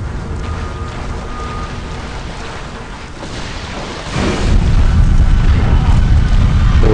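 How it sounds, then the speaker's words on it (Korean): A grenade explodes in a video game, a loud booming blast that rises sharply partway through and then rumbles on, with a faint voice underneath. "오, 근데 이건 전작에 있던 수류탄 아닌가?"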